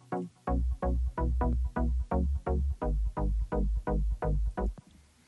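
Progressive house synth chords from FL Studio's Sytrus over a sine-wave sub bass, about a dozen punchy pumping stabs in an even rhythm with deep low end, loud and alone, stopping abruptly.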